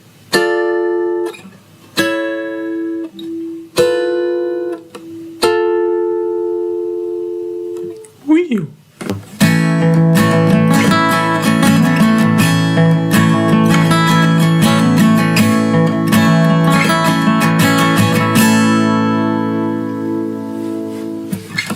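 A guitar slowly picks out single notes of a riff from a song with pauses between them, then shifts into denser, fuller strummed playing that rings on loudly to the end.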